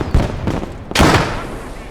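Anti-tank grenade explosions in the World War II game Gates of Hell sound as two or three sharp, loud blasts in under two seconds, the last the biggest with a short rumbling tail.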